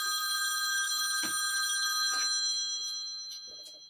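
Telephone bell rings continuously and loudly nearby, a bright sustained metallic trill that slowly fades, with faint knocks and movement beneath it.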